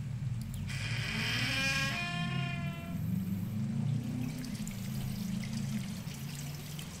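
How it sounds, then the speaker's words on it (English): Rushing water in the text adventure game Colossal Cave, a steady broadband pour with a low rumble and a brighter trickling layer near the start, continuous and fairly loud with no voices. "You see rushing water."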